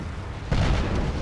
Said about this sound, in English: Some more bombs.